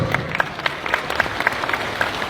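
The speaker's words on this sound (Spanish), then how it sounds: "Fuerte aplauso, compañeros." A crowd at a political rally in the Cochabamba tropics gives a burst of applause, dense steady clapping close to the microphone throughout.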